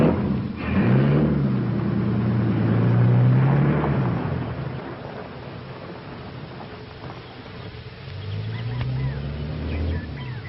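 A 1940s car pulls away and recedes, its engine note rising, fading, then swelling again in the distance amid outdoor ambience, with no voices.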